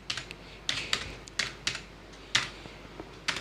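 Fingers type on a computer keyboard while entering data in Tally ERP 9 accounting software, producing close, crisp key clicks in an irregular rhythm of single taps and short bursts, with no talking.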